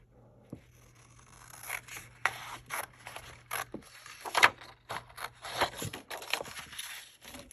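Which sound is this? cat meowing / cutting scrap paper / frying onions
cutting scrap paper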